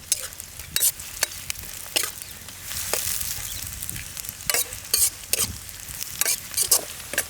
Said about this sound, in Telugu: ఉల్లిపాయలు కాస్త వేగగానే పచ్చిమిర్చి కూడా వేసుకుందాం